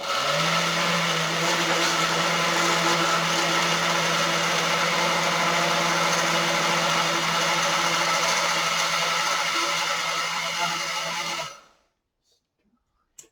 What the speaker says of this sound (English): Then I'm going to turn on the old blender.